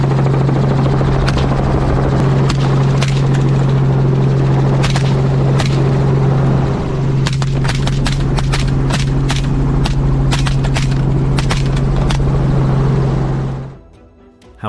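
Helicopter flying over fields during a wild boar hunt, steady loud rotor thump throughout with sharp gunshots cracking in irregular bursts, then the noise cuts off abruptly near the end.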